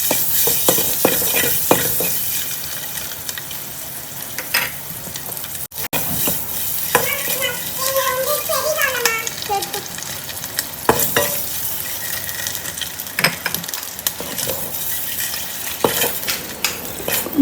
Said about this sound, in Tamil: அந்த கலர் வர வரைக்கும் நம்ம முட்டையை வந்து நல்லா வறுத்து எடுத்துக்கணுங்க